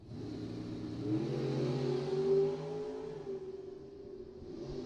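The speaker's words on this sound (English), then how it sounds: "Both big block Chevy Power rear engine dragsters." Two big block Chevy powered rear engine dragsters at a bracket drag race, their engines a loud, sustained mid-range roar that swells and fades slightly, heard from trackside with no talk.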